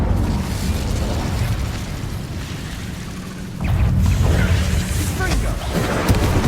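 An Incendio fire spell cast in Hogwarts Legacy bursts out as a roaring, crackling blast of flame with heavy low rumble. It eases briefly and then flares up again louder for the second half.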